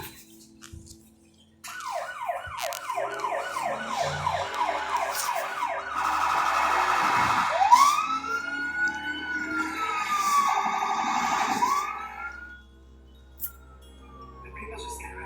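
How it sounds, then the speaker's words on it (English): Emergency sirens switched on in a moving vehicle, wailing and yelping in loud sweeping cycles that rise and fall for several seconds, then cut off near the end. "I can turn the sirens on,"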